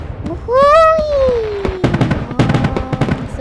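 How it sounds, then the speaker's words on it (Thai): A firework in the Ranch Simulator video game whistles upward with a rising, falling tone, then bursts into a flurry of crackling pops and bangs, loud and close, with a voice briefly under it. "มาดูเลยพลุสวยครับเพื่อน ๆ"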